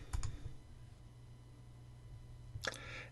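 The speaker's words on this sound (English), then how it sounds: "So right here, we're going to click New Event Type." Two brief, sharp computer mouse clicks, one near the start and one near the end, in a quiet room while setting up an online scheduling tool, with only faint background hiss between them.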